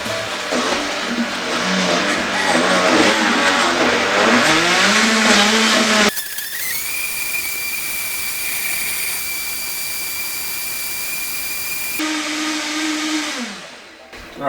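A Blendtec blender runs a beet smoothie cycle with the lid off and a tamper pushing the ingredients down. It whirs loudly with a shifting churn, then switches to a high steady motor whine, then winds down to a stop.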